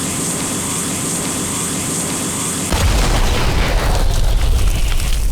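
Charge-up shotgun shot in a first-person shooter: a sustained, building roar of noise that swells midway into a heavy, thunderous low boom that rumbles on continuously to the end.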